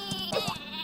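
Cartoonish sheep bleats from the Worms video game, a few short wavering cries sounding over steady game music and effects.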